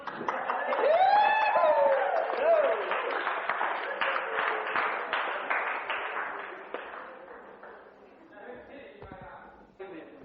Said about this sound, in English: Give us a clap, ladies and gentlemen.